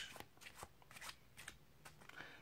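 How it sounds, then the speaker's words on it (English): A deck of playing cards is riffled and shuffled overhand during a close-up card trick, giving a quiet series of short, papery flicks in an uneven rhythm with no talking. "And then you shuffle off everything else."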